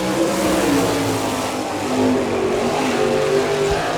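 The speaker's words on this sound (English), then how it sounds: "John has a Kistler racing engine." A sprint car with a Kistler racing engine roars past on the dirt track during an All Star Circuit of Champions race at Chillicothe, Ohio, a loud sustained engine drone rising and falling without a break.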